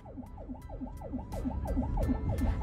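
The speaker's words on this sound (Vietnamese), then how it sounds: "Mặc xe cấp cứu hú còi xin vượt, xe tải vẫn ngoan cố không chịu nhường đường." An ambulance siren wails in a fast, rapidly rising and falling yelp as the ambulance tries to overtake a truck that will not yield on a road in Vietnam. It is loud and continuous over engine rumble, with no talking.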